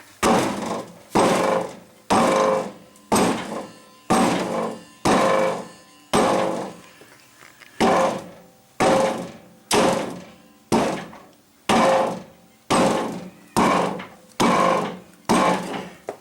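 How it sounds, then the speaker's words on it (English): Heavy, dull thuds of a dead blow hammer striking the back of a stuck tire and wheel rim, in a steady rhythm about one per second, each with a brief muffled ring, loud and close. "Take a dead blow hammer, hit the back of the tire."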